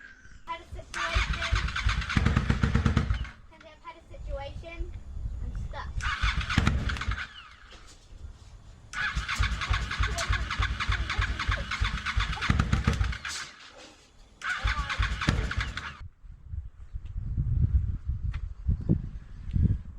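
Engine on a home-built reverse trike cranking and catching in several bursts, running roughly with revving between pauses, loud and close; people talk intermittently through it.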